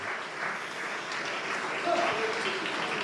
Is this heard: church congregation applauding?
yes